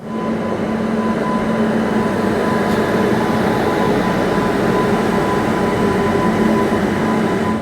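A passenger train pulls out of a station on the Visakhapatnam to Araku Valley line, its steady close rumble and hum going on continuously.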